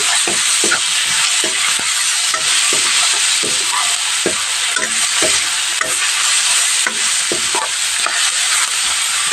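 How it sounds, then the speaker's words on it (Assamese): Onion, bay leaf, garlic, ginger and dried and fresh chillies frying together in oil, a steady close sizzle with repeated stirring scrapes throughout. "এইখিনি মই এতিয়া একেলগে তেলত ভাজি ল'ম।"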